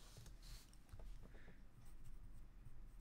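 Pen writing a label by hand on paper, quiet scratchy strokes in short irregular bursts, close and faint.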